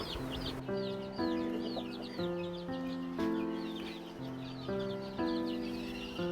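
Fighting-breed roosters clucking and calling nearby with high, chirpy peeps of chicks scattered throughout, steady and busy with no talking.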